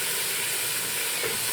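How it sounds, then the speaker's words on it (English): Onion in olive oil in a pot gives off a steady, even sizzle and hiss from start to finish, sounding close and continuous. A stirring spoon adds nothing that stands out, and no one speaks. "I'm going to give that a stir. I want to coat all of the onion with the olive oil."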